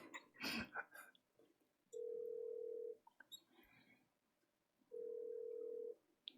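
Over speakerphone, a call rings out with two steady one-second ringback tones about three seconds apart, with a brief murmur of voices and small handling noises before and between them.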